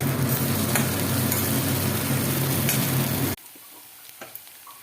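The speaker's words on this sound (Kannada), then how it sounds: "ಒಗ್ಗರಣೆ ಕೊಡೋಣ ಬನ್ನಿ. ಹಸಿ ಜೀರಿಗೆ ಹಾಕೋಣ. ಸಾಸಿವೆ, ಜೀರಿಗೆ, ಉದ್ದಿನಬೇಳೆ" Mustard seeds, cumin and urad dal tempered in hot oil give a loud, steady crackling sizzle for about three seconds, then it drops abruptly to quiet, faint kitchen sounds with a few small clicks.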